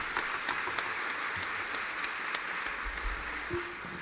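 Faint, distant audience applause at a cellos-meet-jazz concert, soft continuous clapping with a few sharper claps standing out.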